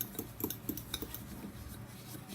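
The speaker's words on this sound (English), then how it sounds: "we're going to stir it with a fork" A fork stirs breadcrumbs into melted butter in a dish, making light, quick clinks and scrapes close up, fading toward the end.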